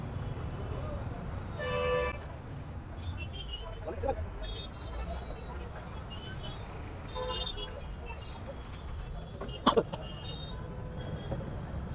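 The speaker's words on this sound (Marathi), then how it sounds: "नाही हे काय पिप पिप पिप पिप करतो फक्त ना" A Wagon R VXi CNG car horn gives a few short, sharp toots that rise above steady background noise and outdoor ambience.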